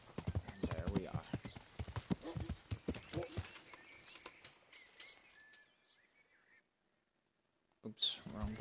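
Horse hooves clip-clop in the Kingdom Come: Deliverance game on PS4, a steady rhythmic patter under a voice for the first few seconds, then fading out before a short burst at the end.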